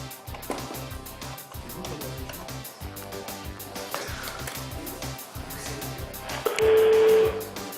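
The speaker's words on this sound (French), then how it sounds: "J'appelle donc Jean-Pierre Ducéo" A phone number keyed in on a telephone during a French TV broadcast: a steady run of quick dialing tones over background music, ending with a longer held tone.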